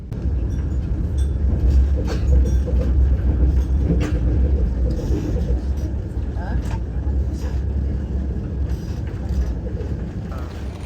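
A Vande Bharat train on the Konkan Railway between Mumbai and Ratnagiri rumbles steadily along the rails with a loud continuous low roar and occasional clacks, heard from inside the moving carriage.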